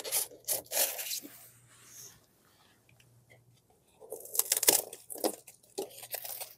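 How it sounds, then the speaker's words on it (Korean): Rough rasping and sawing of a blade through cheap cured spray foam, light and crumbly, in two bursts of strokes separated by a brief quiet pause. "이거부터 먼저 잘라보고 단면을 한번 비교해"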